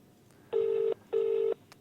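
Two identical steady electronic telephone tones, each lasting under half a second with a short gap between, play loud and clear over a faint background hiss, like a call tone cut off right away.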